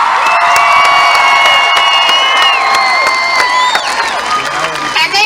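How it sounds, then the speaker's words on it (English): A large crowd at the Butler County Fairgrounds in Allison, Iowa cheers and applauds loudly at Maddie Poppe's homecoming event, with sustained shouting, whoops and whistles in a dense, continuous roar. "The crowd went wild."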